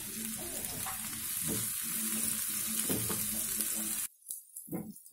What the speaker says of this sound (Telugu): ఆనియన్స్ వేగాయి కదా,